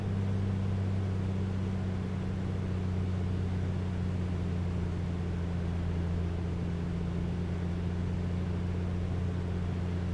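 Piper Comanche piston engine in the A2A flight simulator droning steadily at cruise, a constant low hum with a smooth, even tone and no breaks, heard alone throughout.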